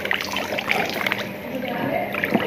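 Water sloshes and trickles as someone dips into a small homemade swimming pool, a close, steady splashing and dribbling with faint voices in the background.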